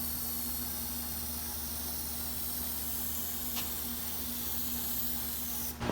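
Spray gun applying a final paint coat over a truck grill with chrome strips taped off, a steady close hiss that runs unbroken and evenly loud before cutting off abruptly near the end.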